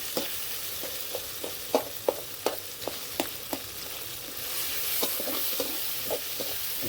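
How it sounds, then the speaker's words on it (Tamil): Tomato and onion sautéing in a pan for an egg gravy, with a steady sizzle under repeated close scrapes and clinks of a spoon stirring, loudest in the first half. "உப்பு போட்டால் தக்காளி வெங்காயம் சீக்கிரம் வதங்கிடும் பார்த்துக்கோங்க. இது நல்லா கிளறி விட்டுக்கிடுவோம்."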